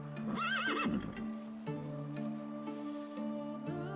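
A horse in the video game Medieval Dynasty gives a loud, close whinny near the start, followed by soft hoof clip-clops and light ambient game sounds.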